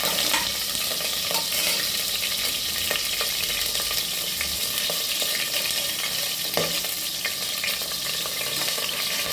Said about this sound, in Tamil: ரெண்டு பச்சை மிளகாய் சேர்த்து நல்லா கொஞ்சம் நேரம் வதக்கிடுங்க